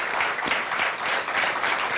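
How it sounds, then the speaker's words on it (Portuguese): A television talk-show studio audience applauds a guest author before a debate, with dense, even clapping sustained for the whole moment. "Um aplauso para ele, Luís Miguel Rocha."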